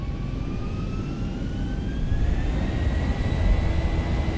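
Zibo Boeing 737-800 engines spooling up to takeoff power in X-Plane 11, a steady loud jet roar with rising whine tones that swells slightly louder partway through, with no talking.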